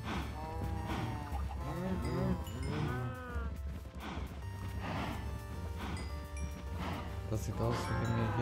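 Cows mooing in the video game Minecraft, several drawn-out moos overlapping in a farm pen, with rhythmic repeated calls throughout and a person talking over them.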